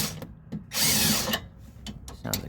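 On a 2016 Ford Mustang EcoBoost front strut job, a power tool whirs in short bursts against a sway bar link nut while the stud spins, with one longer burst in the middle and metallic clicks around it.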